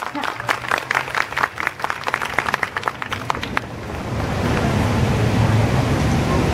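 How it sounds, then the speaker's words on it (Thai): Audience applause at a concert hall with the BSO orchestra as two singers are welcomed onstage, starting with scattered sharp claps under an announcer's voice, then swelling into a loud, dense, steady ovation. "ขอเสียงปรบมือดังๆ นะครับ ให้กับคุณมัดหมี่พิมดาพาณิชสมัย และคุณสรัตอมาตยกุล"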